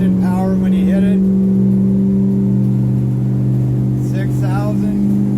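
The engine of a 2019 Duckworth boat drones steadily and loud beneath someone talking, its tone holding fairly constant rather than rising sharply.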